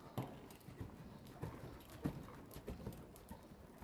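A horse canters on the left lead in an arena riding lesson, its hoofbeats landing in a regular three-beat rhythm of soft thuds, fairly faint and mid-distance, with no talking.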